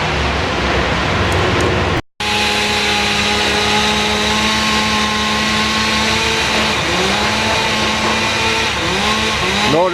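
Chainsaw cutting branches during a large tree removal, a loud, steady engine whine with shifting pitch dips as it bites into wood, briefly cut off near the start, with no talking.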